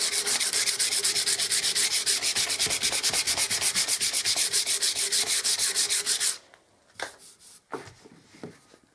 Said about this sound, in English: So once you've used that sandpaper, dust it off and then use your P180.